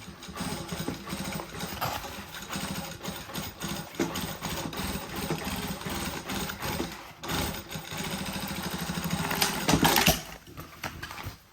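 A serger runs steadily, stitching elastic onto stretch mesh with a continuous mechanical whirr and rhythmic clatter that swells louder near the end before stopping abruptly.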